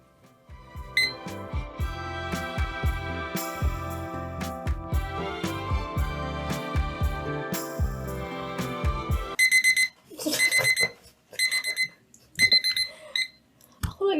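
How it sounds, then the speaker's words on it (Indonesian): An alarm timer rings with a continuous electronic chiming melody, then switches to short bursts of rapid beeping, loud and close with no talking. "Tahu-tahu bunyi alarmnya."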